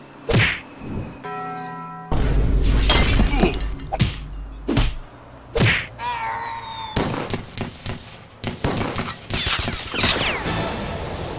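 007 Nightfire firefight with sharp bursts of gunfire, heavy impacts and shattering glass, loud and close in dense irregular clusters with brief pauses and a few electronic tones between shots.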